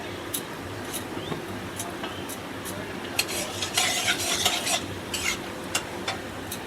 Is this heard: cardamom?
yes